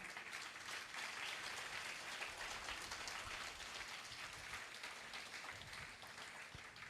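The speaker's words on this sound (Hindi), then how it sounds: "एक बार जोरदार तालियां।" A seminar audience claps steadily in a dense, continuous wash of applause that stays even throughout, heard quietly as if from a distance.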